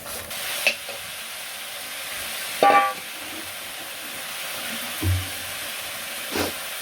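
Fish curry cooking in a pan in a village kitchen gives off a steady sizzle and hiss, with a few louder clatters and stirring knocks scattered through it.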